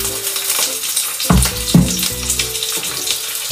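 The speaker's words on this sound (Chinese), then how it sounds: "看，它刚下锅，它这个皮就立马就开了" Sausages fry in a hot pan with their skins splitting open, a loud, continuous crackling sizzle punctuated by a couple of sharp pops and spits, close up and without speech.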